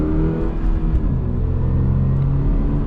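2025 Subaru BRZ TS sports car setting off, a steady low engine rumble from inside the cabin with a mild rise in revs as it pulls away.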